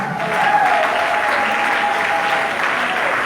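A congregation at a wake claps steadily and loudly in sustained applause to acclaim the Lord, a dense, even wash of hands with faint voices mixed in.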